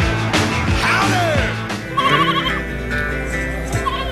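A goat bleats loudly and close by, with a couple of wavering cries over a thin background hum.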